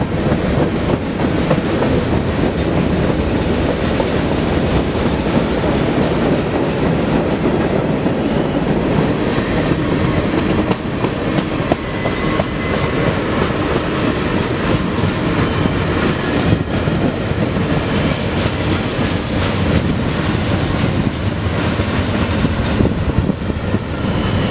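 A freight grain train hauled by a Santa Fe engine rolls past on the line at Fort Madison, Iowa, a loud, steady rumble of cars lasting the whole stretch with faint rhythmic clatter.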